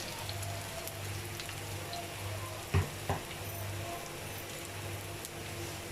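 Small pakora fritters for kadhi frying in a pan of oil make a steady, soft, close sizzle, with two brief knocks partway through.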